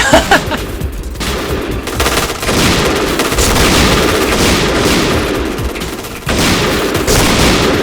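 Gunfire in the shooter Point Blank rattles almost continuously in dense, loud bursts, with heavy booming layers and a brief lull before firing resumes.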